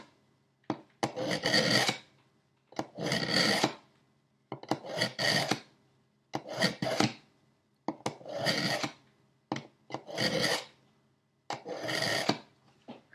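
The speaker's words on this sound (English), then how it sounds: "So you put it in at 90 degrees, apply a bit of light pressure, and move that knife towards you" A kitchen knife is drawn through the ceramic slot of a Luxebell three-stage sharpener. Seven separate gritty rasping strokes come close and clear, each about a second long, with short quiet pauses between them and no talking.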